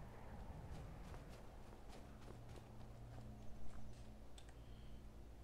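Horse hooves clip-clop at a walking pace in the video game Skyrim, soft rhythmic steps set against a faint ambient background hum.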